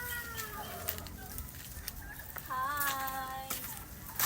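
A laying hen clucks in a farmyard, several short clucks and a drawn-out call heard at moderate distance, with other birds and faint background noise.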